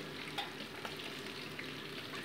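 A paste of ground green and red chillies fries with masala in a pan for chicken curry, giving a steady, close, even sizzle that crackles softly throughout, with no voices.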